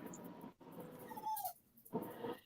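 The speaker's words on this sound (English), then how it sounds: "sounds like my daggone dogs right there." A dog whimpers and whines nearby, short high whines broken by brief pauses, fairly faint against background noise.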